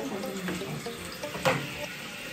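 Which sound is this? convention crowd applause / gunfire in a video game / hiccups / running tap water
running tap water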